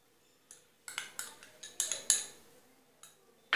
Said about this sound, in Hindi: इसे एक बार और अच्छे से चला लेंगे हम।